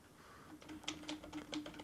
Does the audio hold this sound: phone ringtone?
no